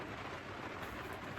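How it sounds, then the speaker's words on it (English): Steady summer rain falling in Britain, a soft even hiss with no distinct drops standing out, fairly faint and with no voices. "summer rain. Lovely summer rain."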